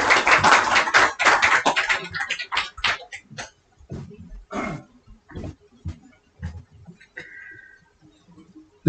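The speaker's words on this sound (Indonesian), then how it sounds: "Tepuk tangannya." Applause from an audience at an Islamic event in Indonesia as a guest is welcomed onto the stage: dense clapping at first that thins into scattered, fading claps.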